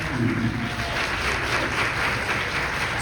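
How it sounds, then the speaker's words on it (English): Audience applause at an elementary school fifth grade promotion ceremony, a steady loud wash of clapping from a crowd of students, continuous and dense throughout with no clear speech. "Students, stand up, turn around, and applaud your parents for the work they've done for you."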